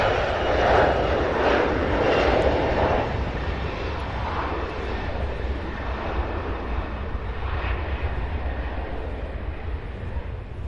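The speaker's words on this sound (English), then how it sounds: "All right, that Delta flight there heading to LaGuardia." A Delta CRJ 900 regional jet passes near Cincinnati's CVG airport as a steady, broad engine roar, loud at first and easing slightly as it continues, with no talking.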